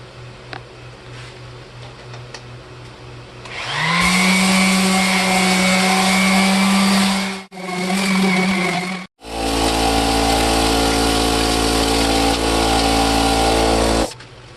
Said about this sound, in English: now we've got it sanded down, and it's pretty close and smooth across the whole thing